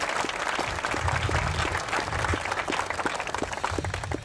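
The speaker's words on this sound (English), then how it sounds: "So I hope you'll join me in giving him a round of applause." An audience at a bridge dedication ceremony in Folsom breaks into sustained applause, a dense, even patter of many hands clapping throughout without any voices standing out.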